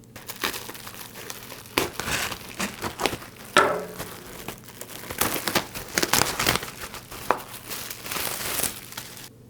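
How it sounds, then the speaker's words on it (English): Close, irregular crinkling and crackling of a plastic bag being handled and pulled open to remove an evaporative humidifier wick, with sharp rustles and tears. "The first one is to remove wick from plastic bag."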